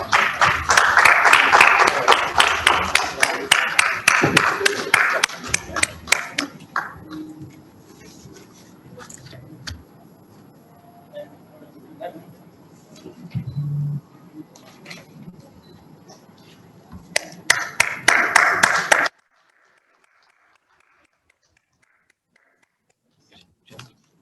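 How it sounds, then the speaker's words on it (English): Audience at an innovation awards ceremony claps loudly for the final President's Award, a burst of applause that fades to scattered claps, then swells again before cutting to silence. "let's have a big round of applause, please"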